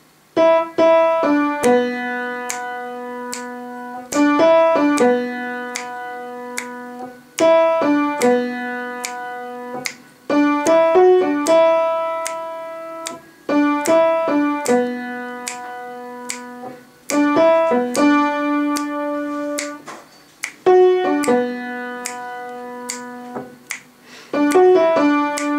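Solo piano plays the chorus vocal melody of a song as single notes in short, clear phrases with pauses between them, close and alone.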